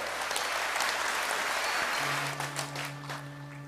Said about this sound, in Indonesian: Tepuk tangan untuk para wisudawan kita.